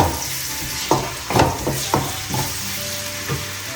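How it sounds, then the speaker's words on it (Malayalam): Chopped onions sizzle in hot oil in a pan while cooking pork roast, a steady frying hiss broken by several scraping stirs, close and clear with no talking. "സവാള അരിഞ്ഞതിനകത്തേക്കിട. സവാള നന്നായി വാടട്ടെ."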